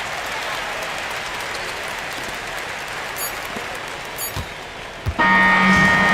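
Crowd cheering in the NBA 2K25 basketball video game, a steady roar of fans throughout that swells louder near the end after a final free throw, with a bright horn-like tone joining at the close.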